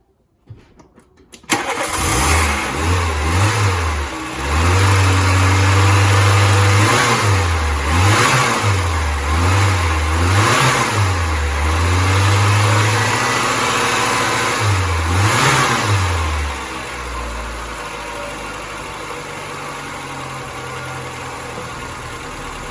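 A VW Polo MK2 Breadvan with an auto choke and running issues cranks and fires up, then its mid-pitched engine is revved repeatedly in rising and falling bursts before settling into a steady idle.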